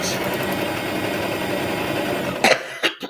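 A sewing machine back stitches quilt half-square triangles together, a loud, close, continuous whirring hum that runs steadily for over two seconds before stopping, followed by a few brief handling knocks.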